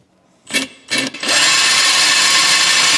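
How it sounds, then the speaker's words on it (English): A power drill bores into a magnesium car part, two short bursts spinning up before it settles into a loud, steady, high whining grind held close up to the end. "And after she is drilled out, grab your tap and create some threads to bolt our baffles back on."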